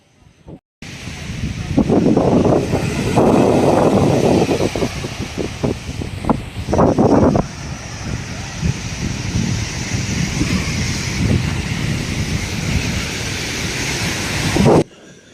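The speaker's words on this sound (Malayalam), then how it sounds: "നല്ല കാറ്റുമുണ്ട്." Strong gusting wind at a Mumbai beach near the Bandra-Worli Sea Link roars across the microphone in a steady broadband rush, with a couple of louder bursts early on.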